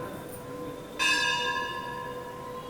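A single bell strikes once, bright and ringing, then hums on as a long sustained tone that fades slowly over a faint room background.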